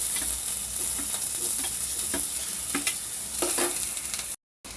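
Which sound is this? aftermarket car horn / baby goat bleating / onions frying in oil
onions frying in oil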